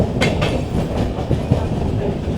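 A passenger train heading toward Aluva station in Kerala rolls along with a loud, steady rumble from onboard, broken by a few rhythmic wheel clacks and knocks.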